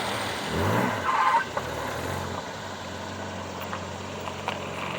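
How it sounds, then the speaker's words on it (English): A Jaguar E-Type XKE classic sports car drives past at moderate loudness, its engine note swelling briefly early on and then settling into a steady road rumble with no talking. "this is my first time driving a proper Jaguar E-Type XKE"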